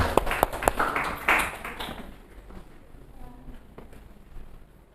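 A few scattered hand claps in a classroom during a teacher performance-assessment session, sharp individual claps near the start that thin out and fade, with faint room noise after.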